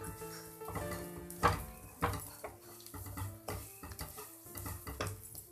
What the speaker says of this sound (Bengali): ভালো করে নেড়ে নেড়ে ভাজতে হবে।